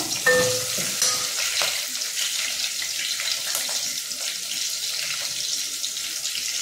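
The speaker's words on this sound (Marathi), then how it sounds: "आता आपल्याला लसूण, कढीपत्ता आणि मिरची हे एकदम टाकायचं फोडणीला" Continuous hissing sizzle of garlic, curry leaves and chili hitting hot oil for a tempering, with scattered crackles and a few clinks of a utensil.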